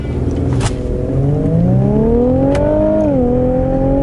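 A 2017 Infiniti Q50 in Sport Plus mode, traction control off, launching hard from a standstill, its engine note climbing steadily in pitch, easing briefly at a shift near the end, loud and close from inside the car.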